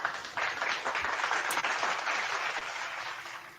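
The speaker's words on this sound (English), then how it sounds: "Give a round of applause for that guy." An audience gives a round of applause at a live show premiere, a fairly faint, steady wash of clapping heard from a distance that continues evenly for a few seconds.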